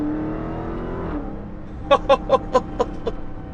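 A 2022 Dodge Charger Hellcat Redeye accelerates hard in first gear with wheels spinning, its engine drone rising steadily before a string of six sharp, rhythmic bursts punch through near the end.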